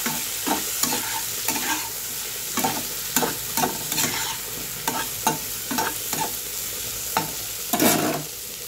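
A spatula scrapes and stirs potatoes and fried bitter gourd in a pan at a steady irregular rhythm, with soft sizzling of oil underneath.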